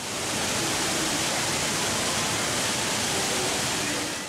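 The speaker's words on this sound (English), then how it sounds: "the waterfall's flow alternates between cascades and trickles that reduce air turbulence" The Jewel Rain Vortex, an indoor waterfall at Singapore Changi Airport, roars in a constant dense rush of falling water, loud and even throughout with no break.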